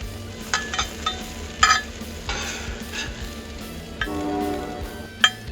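Hash browns are portioned into small cast iron skillets. Close scraping and stirring sit over a faint sizzle, with occasional clinks of a utensil against the pans.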